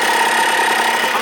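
A Yamaha Blaster ATV engine idles on its own, a loud, steady, continuous drone close by that holds throughout.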